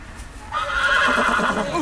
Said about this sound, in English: And there goes my horse.